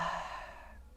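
A single slow, breathy exhale during a quiet yin yoga pose, close and soft, fading out over about a second with no talking.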